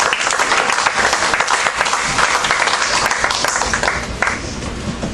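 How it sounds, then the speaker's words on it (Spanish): A church congregation applauds, giving a big round of applause to God: dense, loud, sustained clapping from many hands that fills the space steadily from start to finish. "Den un aplauso grande a Dios."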